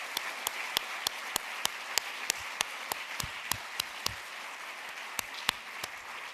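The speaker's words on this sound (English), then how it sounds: "Can we have one more round of applause for our outstanding awardees?" Applause for honorees at an awards ceremony, a moderate crowd clapping steadily, with a few sharp, loud individual claps standing out close by at regular intervals.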